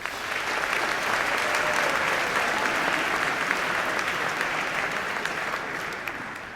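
A school speech-night audience applauds Mr. Udall in a hall, with many hands clapping in a full, even wash for several seconds that thins slightly toward the end.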